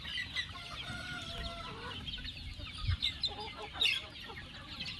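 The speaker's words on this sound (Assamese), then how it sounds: "ইয়াতে মোৰ 1500মান মুৰ্গী আছে" Hens on a poultry farm of about 1,500 birds, being fed paddy, cluck in a busy chorus, with sharp calls near and softer ones farther off, fairly faint overall.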